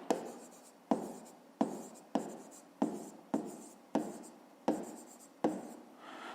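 A pen writing on paper for a fifth-grade maths exercise, with nine short, evenly spaced scratching strokes close to the mic and no talk.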